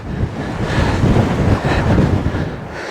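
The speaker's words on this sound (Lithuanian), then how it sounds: "tai vėjas nuo kalnų, tai kalnai turėtų neleisti, bet prapučia kažkur suranda" Gusty wind blowing down from the mountains on a winter walk in Spain, a loud close roar buffeting the microphone in surges and rumbles, with no voices.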